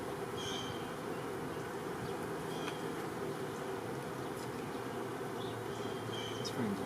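Honey bees droning during an early-season February hive inspection after a polar vortex, a low steady hum with occasional individual buzzes passing close, faint and continuous, with no talk.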